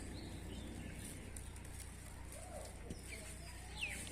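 Pigeons kept at a home loft where kites are also flown give faint, intermittent coos and calls over a quiet, steady background hum.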